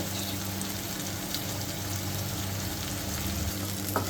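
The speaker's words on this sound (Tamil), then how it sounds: "இந்த தக்காளியும் சேர்த்து நல்லா வதக்கிடும்." Steady sizzling of onion and tomato sautéing in a hot pan, a continuous crackling hiss with faint stirring noises, close by and with no talking.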